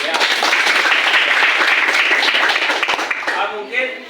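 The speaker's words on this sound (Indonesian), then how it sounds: "Tepuk tangan dulu ya." Students clapping in an Indonesian classroom during a poetry lesson, a lively burst of applause with chatter mixed in that fades as a voice speaks near the end.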